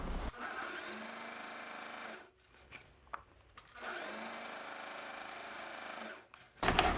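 A sewing machine runs near the fabric edge in two sustained stitching runs, each a couple of seconds long, with a short quiet break between them. It sounds close but fairly soft.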